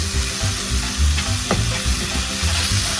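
Chopped onion cooking in a pan for homemade Mexican sopes, a steady close sizzle and frying crackle with occasional stirring scrapes, no talking.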